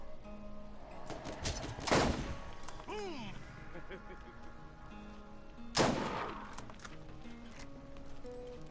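Two loud sniper rifle shots a few seconds apart in the video game Borderlands, each a sharp crack with a ringing tail, over quiet game ambience and faint background tones.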